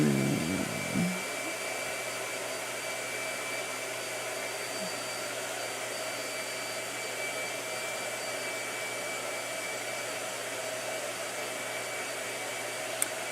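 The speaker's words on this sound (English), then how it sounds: "Blow dryer." A blow dryer runs close and loud for the whole stretch, a steady, unbroken whir with a small knock at the start and no talking.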